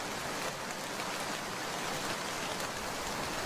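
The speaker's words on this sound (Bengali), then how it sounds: "মুষলধারে বৃষ্টি হচ্ছে, আকাশ যেন তার সব পানি একেবারেই ঠেলে দিচ্ছে" Heavy downpour rain in a cartoon scene, a dense, constant hiss of falling water that stays loud and even throughout, with no voices.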